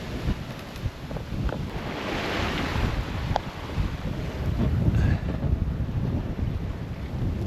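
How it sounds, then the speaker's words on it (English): Lively trade-wind sea at sail: steady broadband wind rushing across the microphone over churning waves and water wash against the boat, continuous and fairly loud for the whole stretch, with no voices. "We've definitely got a much livelier sea"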